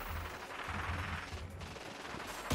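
Rapid gunfire in a Fortnite battle, a dense steady rattle of shots running the whole stretch with a heavier burst at the very end, no talk over it.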